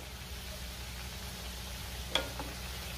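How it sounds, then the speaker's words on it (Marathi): Sprouted moth bean bhajis fry in hot oil over a high-to-medium gas flame, giving a faint, steady sizzle with a single sharp pop partway through. "आता आपण भजी व्यवस्थित तळून घेऊया सगळीकडून।"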